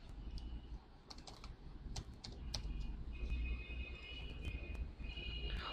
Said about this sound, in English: I'll just type some text.